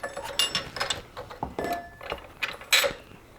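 A crash bar bolt being pushed through its bracket on a Honda Africa Twin adventure motorcycle, a series of close, light metallic clicks, scrapes and taps, irregular and fairly quiet, spread over a few seconds.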